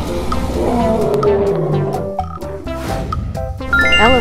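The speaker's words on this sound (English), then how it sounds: "Lion." Lion roar, loud and close, with a rough, rumbling growl that swells and fades over a few seconds, with some cartoonish tonal sound effects at the end.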